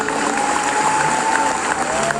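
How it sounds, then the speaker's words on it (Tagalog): Loud, steady applause from a large crowd in Cebu welcoming Rabbi Joseph Dumont, a dense wash of clapping that fills the whole stretch without pause. "I-welcome naman siya ng mga taga-Cebu. Malakas na palakpak."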